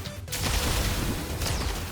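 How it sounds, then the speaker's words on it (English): Gunfire in a video game sets off chain explosions, a dense burst of crackling blasts and rumbling booms that runs continuously for a couple of seconds, loud and close with no talk. "It just causes a chain explosion."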